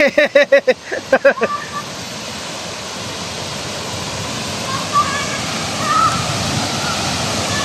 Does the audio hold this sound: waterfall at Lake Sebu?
yes